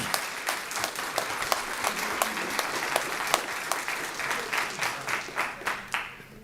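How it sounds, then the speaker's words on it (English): Attendees at a county commission meeting applaud in a room, a steady crowd clatter with some distinct individual claps rising toward the end. "Thank you for the applause"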